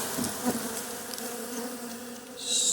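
Honey bees buzz in a steady, close swarm at a hive entrance as foragers bring in dandelion and dead nettle pollen in spring, the drone continuous with a brief brighter swell near the end.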